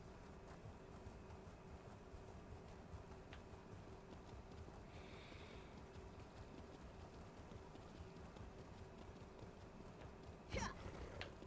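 A horse trots while being ridden in Elder Scrolls Online, its hooves keeping a steady clip-clop rhythm low under a constant ambient wash, with a brief clatter near the end.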